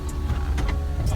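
Power windows on an Infiniti G37S convertible lowering as the roof opens, a steady close motor whir with faint clicks, no talking.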